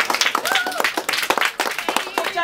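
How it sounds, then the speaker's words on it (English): Audience clapping for a child named Jack at a children's pirate show, a lively mix of hand claps with children's voices and chatter over it. "Give Jack another nice applause."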